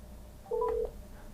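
Google Assistant placing a phone call on a smartphone, one steady electronic dialing tone held for about a third of a second over a quiet background, with no voices.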